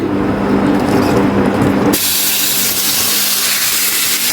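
Marinated chicken hits four tablespoons of hot oil in a pan, bursting into a loud, close, continuous hissing sizzle that brightens sharply partway through and stays steady.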